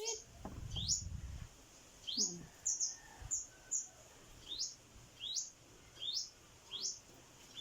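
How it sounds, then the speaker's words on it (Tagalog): Many small sunbirds chirp around hibiscus flowers, sipping nectar: a steady run of short, bright, rising calls repeated about once a second, fairly close, over a quiet background with a brief low rustle near the start. "Maraming ibon dito sa amin, mga migaw."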